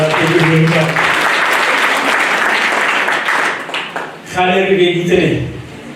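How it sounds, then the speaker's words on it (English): Audience applause at a celebration event, a loud, dense wash of clapping that dips briefly while a voice speaks over it, then swells again. "Another round of applause for him here."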